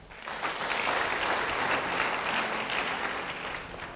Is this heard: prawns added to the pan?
no